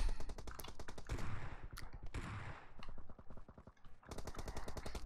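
Rapid gunfire from the mobile shooter PUBG Mobile, dense bursts of sharp automatic shots in quick rhythmic strings, pausing briefly midway and then resuming loud and fast at the end.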